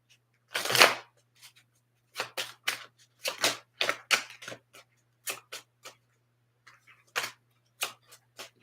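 Zodiac fortune telling cards being shuffled by hand, a run of sharp papery riffles and flicks in irregular bursts, close and distinct against a faint steady hum, with no talking.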